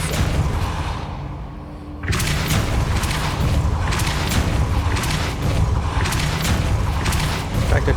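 Depulso spell in Hogwarts Legacy, a sudden loud boom near the two-second mark followed by a dense, steady rumble of game effects and repeated thumping impacts, under a continuous game soundscape.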